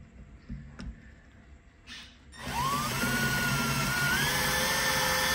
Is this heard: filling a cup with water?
no